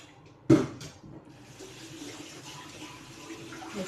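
Water runs from a kitchen tap while vegetables are washed, starting with a sharp splash and then a steady low gush, moderately close with no talk.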